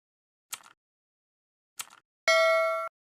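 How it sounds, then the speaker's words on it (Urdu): A warning bell rings: two short, bright metallic clinks, then one sustained ringing tone that holds for over half a second and cuts off, all in silence. "خطرے کی گھنٹی بج گئی"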